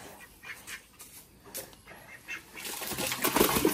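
Domestic ducks kept at home near a pond with water hyacinth give soft, intermittent quacks and calls, some faint and some closer, building slightly louder toward the end over quiet outdoor background.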